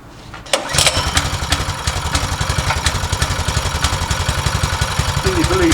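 A cold Scheppach plate compactor engine is pull-started and catches almost immediately, settling into a loud, rapid, chugging idle with a rhythmic thumping beat close by.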